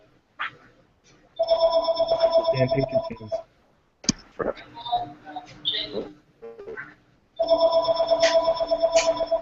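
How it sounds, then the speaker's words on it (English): A phone rings in repeated electronic trilling bursts, loud and close, with a few seconds of pause between rings, while people talk during the gap. "Someone's phone's ringing."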